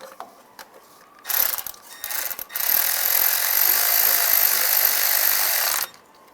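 A ratchet snugging down a 10mm bolt on a rear main seal cover of a 2007-2013 Chevy Silverado, short clicking bursts followed by a sustained steady ratcheting whir, close and loud.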